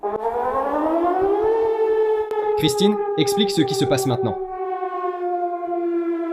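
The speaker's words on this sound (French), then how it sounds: "Le Danemark teste les sirènes d'alerte en cas de guerre." Civil defense warning sirens sound during a test in Denmark, rising into a long, loud, steady wail; a voice talks over the middle of the tone.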